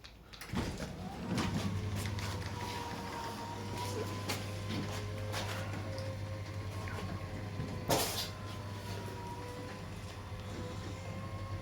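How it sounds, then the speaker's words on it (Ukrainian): A Krispol K2 automatic gate's drive motor runs with a low, steady hum throughout, joined by faint rattles and a brief louder clank partway through, sounding fairly quiet at close range. "Це автоматика шумить."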